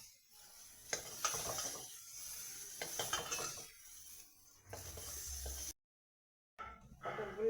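Fried pointed gourd (potol) being lifted out of hot oil in a pan, with soft sizzling and scraping, clinks of a metal utensil against the pan, and a short silent gap before the sizzle resumes.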